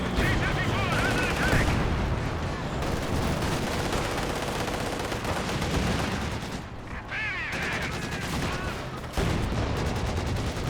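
Pak 40 anti-tank gun shots in the World War II strategy game Company of Heroes 2, with dense, continuous battle gunfire and repeated booming cannon blasts throughout, loud and unbroken, with a commentator's voice in the mix.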